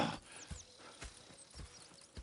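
Horses in the video game Red Dead Redemption 2 clip-clop nearby in a steady, unhurried walking rhythm, the hoofbeats soft and spaced against a quiet outdoor background with no talk.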